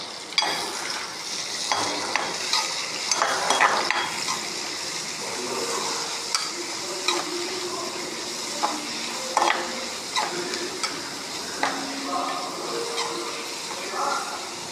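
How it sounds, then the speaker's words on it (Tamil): Onions fried until reddish in a pan for a mutton blood fry, a continuous close sizzle broken by frequent scrapes and knocks of a spoon stirring, with a faint voice now and then. "போட்டு நல்லா செவக்க நல்லா வறுத்தடலாம்."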